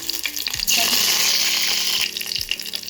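A tadka of mustard seeds, red chili and asafoetida hits hot oil and bursts into a loud, bright sizzle that holds for over a second, then settles back to a softer crackle.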